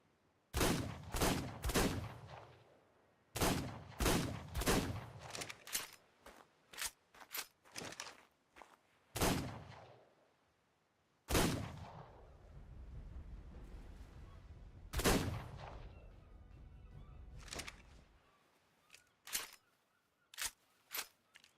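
Gunfire in a first-person shooter on the Ragnarok map, from a weapon landing a headshot on an overraptor: sharp repeated shots in quick bursts and separate single cracks, fairly loud, with game sounds between them.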